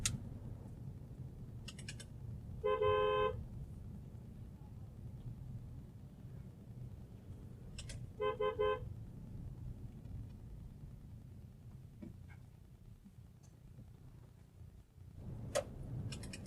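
Two short car horn honks, several seconds apart, sound over a steady low rumble of driving.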